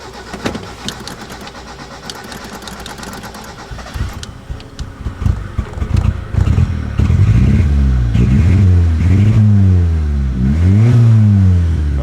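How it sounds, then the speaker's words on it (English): A Ford TX5 Turbo engine cranks with rapid clattering, catches, and then revs loudly in several rising and falling surges up close. "so let's start her up, see if we've got any luck"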